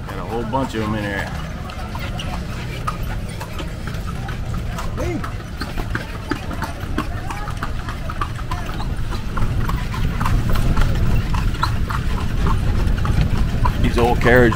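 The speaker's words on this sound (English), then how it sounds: "These old carriages pretty cool. A lot of horses." Horse hooves clip-clop steadily as a horse-drawn carriage moves along a street in Vigan City, Philippines, with an engine rumbling nearby and people talking over the ongoing traffic noise.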